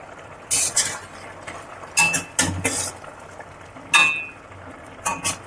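A lid lifted off a pot of bottle gourd curry simmering on the stove, several close metallic clinks and clatters in separate bursts over a low steady background hiss.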